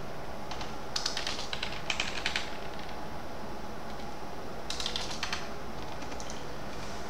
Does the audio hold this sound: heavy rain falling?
no